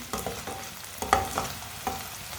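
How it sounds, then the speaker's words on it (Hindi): Onions fry lightly in a pan to a soft brown while a spoon stirs them, giving a quiet steady sizzle broken by a few scraping, clinking strokes, with no voices. "प्याज को हल्का सा ब्राउन कर लेंगे।"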